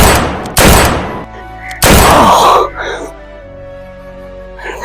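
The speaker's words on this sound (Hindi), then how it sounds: "चलाओ गोली, चलाओ गोली" Two sharp, loud gunshot bursts about a second apart, each with a brief noisy tail, followed by quieter rumbling and faint voices.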